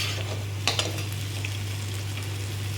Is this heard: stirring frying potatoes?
yes